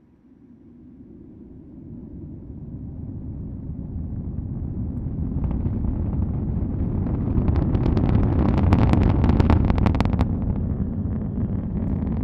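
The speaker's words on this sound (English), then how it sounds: "Hearing the rumble of those 9 Merlin engines from here at the press site" Deep rumble of a SpaceX Falcon 9 rocket's nine Merlin engines after liftoff from Cape Canaveral, heard from the distant press site, swelling steadily louder with crackling bursts, alone without talk.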